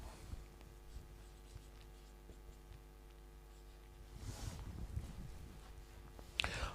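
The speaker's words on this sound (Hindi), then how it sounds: "हम लिखेंगे" A pen writes on paper while working a trigonometry problem: a quiet, steady scratching that grows denser and a little louder toward the end, with a few faint taps over a low background hum.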